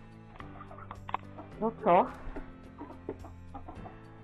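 Hens and roosters in a backyard coop give scattered clucks, with one louder burst of calls near the middle, while a person talks quietly nearby.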